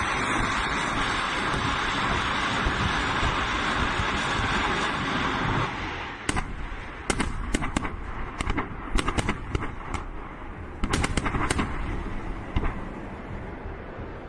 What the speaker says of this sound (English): The 220mm munitions of the system create a cloud of explosive mixture at the impact site and then detonate it.